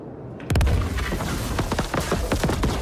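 A Kastak Arms Scorch plasma grenade explodes in the video game Star Citizen, opening with a sudden heavy boom that gives way to a rapid crackling string of bursts and pops, loud and close.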